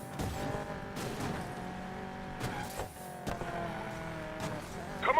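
Cars race in the video game Need for Speed Payback, engines droning steadily with shifting tonal whine and brief impacts or skids, loud and close over a continuous background.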